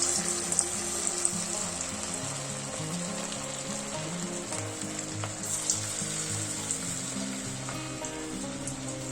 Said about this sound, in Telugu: ఇప్పుడు మనం వాటిని నూనెలో వేసుకోవాలి.